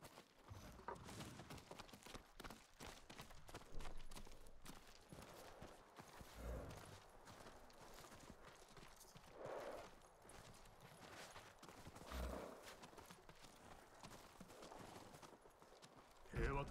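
Hooves clip-clop steadily as a horse walks in the samurai video game Ghost of Tsushima, faint and continuous beneath quiet game sounds and some talk.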